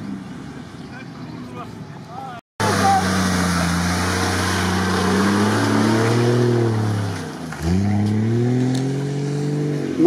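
A GAZ-63 off-road truck engine drones loudly and steadily at close range as it drives, dipping briefly as the revs fall and then climbing again, with a short gap near the start.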